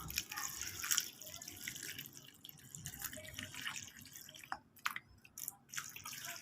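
Water is poured over a pile of cleaned one-peso copper-nickel coins, giving a quiet splashing trickle with scattered drips and a few sharper splashes near the end.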